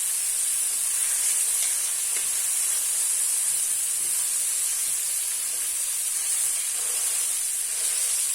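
Mutton chops sizzle on a grill, a steady broad hiss of searing fat and meat running evenly throughout at moderate level, with no voices.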